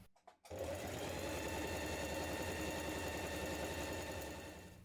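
A sewing machine runs steadily, stitching the central back seam of a jumpsuit lining with a 1.5 cm seam allowance. After a brief stuttering start it hums on at a constant fast rate, close and alone.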